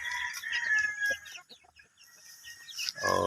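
Rhode Island Red chicks cluck and peep in quick, high bursts, close by and fairly loud, with a short lull midway before the calls pick up again.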